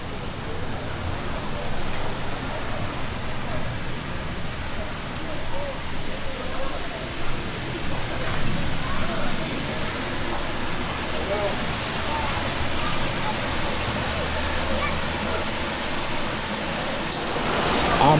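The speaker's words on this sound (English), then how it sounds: "Take a look at the waterfall here." Broadband rushing water from the waterfall at the Venetian Pool in Coral Gables, Florida, a steady, loud splash and hiss heard close up, lasting throughout without pause.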